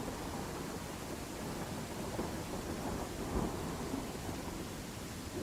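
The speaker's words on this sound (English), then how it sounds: "just a shitload of wind and rain" A thunderstorm with wind and rain in a Viking settlement-building game: a constant dense roar of rain and wind, with low thunder rumbling through it and no voices.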